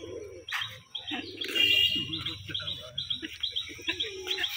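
Pigeons of the Rajshahi giribaj and teddy breeds at a pigeon market give repeated chirps and low coos in a busy mix, with people talking nearby.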